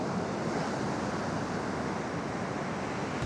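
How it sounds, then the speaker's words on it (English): Ocean waves at a Malibu beach, a steady broadband rush of surf with some wind on the microphone, continuous and fairly loud with no voices. "We're gonna leave you with some waves and get out of here."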